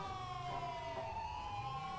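An ambulance siren wails steadily in the video game GTA V with the LSPDFR mod, a continuous, wavering tone over a low road rumble, moderately loud and with no talking over it.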